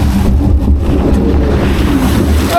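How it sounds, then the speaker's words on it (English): A log flume ride at Paultons Park, heard as a loud, close rush of water and wind buffeting the microphone, sustained and turbulent throughout. "It is a log flume after all."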